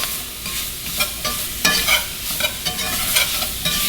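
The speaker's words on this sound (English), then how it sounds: "Got garlic and onion going in. Throw those in. Working a little hot." Garlic and onion sizzling loudly in a hot pan, with continuous frying crackle and repeated stirring scrapes and clatters of a utensil against the pan, close and prominent.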